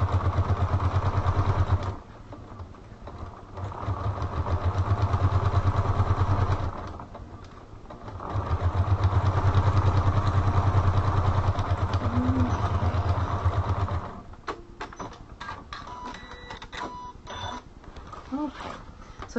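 A sewing machine stitches a fabric spiral notebook cover with a 1/4 inch seam. The motor runs in three steady humming bursts separated by short pauses, then fades into quieter clicking and handling noises.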